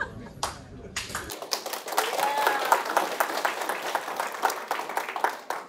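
An audience at a Martin Yan cooking demonstration of Kung Pao chicken breaks into applause after a brief pause. Dense, steady clapping carries on to the end.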